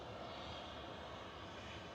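A brand-new Jet2 Airbus A321neo taxis out at Manchester Airport, its engines a faint, steady distant roar with no talk over it.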